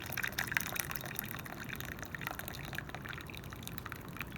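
Hot water pours over jasmine tea in a teapot as a steady, faint gush of liquid that runs without a break and holds at an even level.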